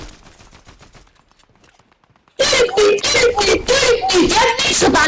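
Fortnite gunfire breaks out suddenly after a quiet stretch: dense, loud, rapid bursts of shots in quick succession. Excited voices talk over and around the shooting.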